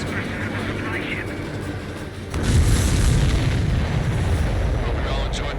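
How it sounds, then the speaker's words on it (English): Explosion of a supply ship in the aerial combat game Ace Combat 7, a sudden deep boom that bursts in midway and rolls into a sustained rumbling blast over jet engine noise. "Did you see that explosion?"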